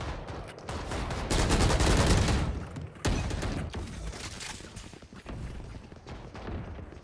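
Arcane Vandal rifle fire in Valorant, loud rapid bursts of gunshots with sharp cracks, a sustained spray followed by shorter volleys and pauses.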